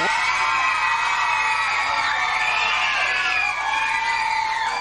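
A studio audience on the game show Double Dare cheers and whoops loudly and continuously, a dense wall of high excited shouting, mostly children, sustained without a break.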